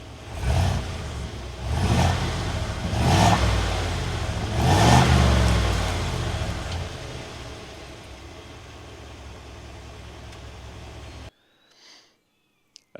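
A 2025 Ford F350 Tremor with a 7.3L gas V8 revs in three deep, rising surges, each swelling and falling back toward a low rumble, then the sound cuts out abruptly near the end.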